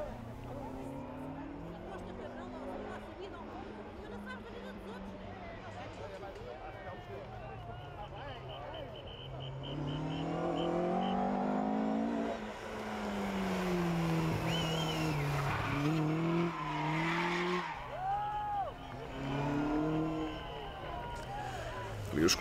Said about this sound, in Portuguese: Mais um Escort RS MK1.